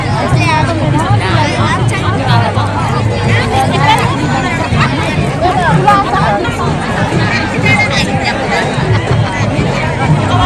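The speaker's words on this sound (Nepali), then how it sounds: "भीड लागिरहेको छ।" Dense crowd at the Sakela Ubhauli festival (Fungsing fair), a steady loud babble of many voices chattering together, continuous and close, with no single voice standing out.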